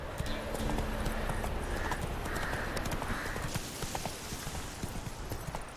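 Roach the horse trots in The Witcher 3, steady rhythmic hoof clip-clops at close range over a faint ambient bed.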